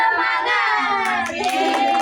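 A group of children claps along with a thumb-clap chant, quick bright hand claps mixed with shouting and cheering voices, steady and close throughout.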